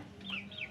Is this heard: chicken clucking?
yes